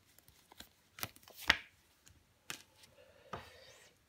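Soft slaps and slides of tarot cards being laid on a table during a reading, a few sparse close taps and brushing sounds in a quiet room, no talk.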